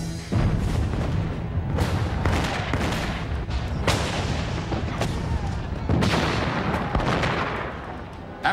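Artillery bombardment during a Revolutionary War siege of a fort held by Continental troops: loud, dense rolling booms and sharp cracks overlap almost continuously, with heavier blasts standing out near and far, and no talk.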